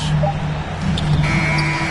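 Basketball arena buzzer marking the end of a quarter, a loud steady electronic tone that sounds for about a second, heard alongside crowd noise and a voice speaking.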